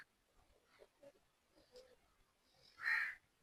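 Young crows give a few faint, scattered calls, followed by one louder, harsh caw close by near the end, with quiet background otherwise.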